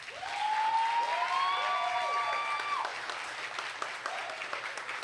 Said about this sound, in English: So let's give a round of applause to the June DAD 2019 Graduate Showcase presenters.